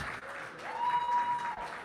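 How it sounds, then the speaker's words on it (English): An audience claps for volunteers in steady, even applause that fills the room at moderate volume, with a faint whistle-like tone rising briefly over the clapping. "Give them a round of applause."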